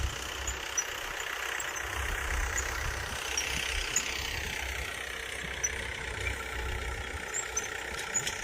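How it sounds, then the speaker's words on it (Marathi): A tractor ploughing a neighbouring field drones with a steady, low engine rumble at a distance, with no voices. "इथे दुसऱ्या शेतामध्ये ट्रॅक्टर चालू आहे"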